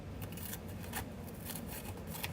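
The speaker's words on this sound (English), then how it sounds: "I don't have scissors, so I'm using my metal tin snips." Metal tin snips cut through material in a run of quiet, crisp snips spaced about every half second, faint and close with no talking.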